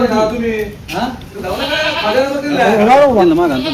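Kathiawadi goats bleat loudly and repeatedly at close range, overlapping wavering cries from several animals, with someone talking over them.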